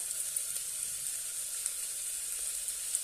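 A spiced moong dal pulao with green chillies, red chilli powder, turmeric and garam masala sizzles steadily in a pan, giving a soft, even frying hiss with a few small pops close by.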